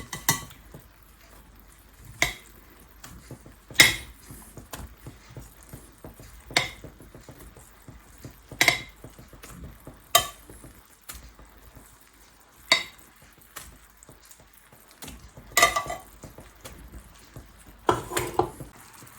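Meatballs being returned to a hot cast iron pan for Korean BBQ style meatballs, with a soft continuous sizzle under repeated sharp clinks and scrapes of utensils against the pan, close and moderately loud.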